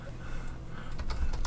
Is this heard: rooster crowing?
no